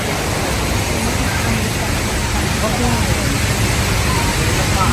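A high-volume stream or river near a waterfall roars loudly and constantly, a thick unbroken wash of rushing water filling the whole stretch.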